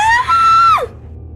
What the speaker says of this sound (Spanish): ¿El grito de mamá?